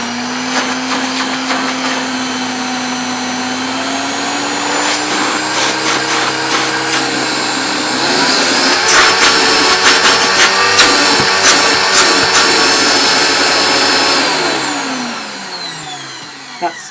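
A Panasonic MC E47 upright vacuum cleaner runs steadily on low power, a continuous whining motor drone that rises in pitch partway through, holds, then winds down near the end.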